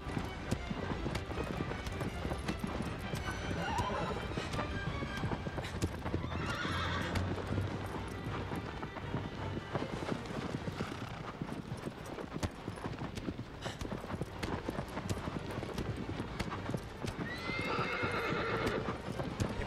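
A horse gallops in the video game Shadow of the Colossus: rapid, continuous clip-clop hoofbeats run for about twenty seconds, with a couple of whinnies breaking through along the way.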